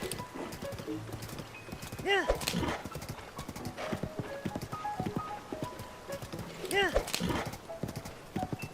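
A horse's hooves clip-clop steadily in The Legend of Zelda: Tears of the Kingdom, with two loud whinnies rising over the rhythmic footfalls while someone talks over the game sound.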